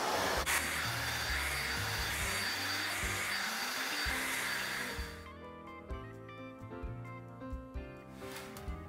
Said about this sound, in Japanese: ドライヤーでちょっと短縮していきます。